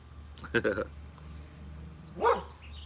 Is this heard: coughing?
no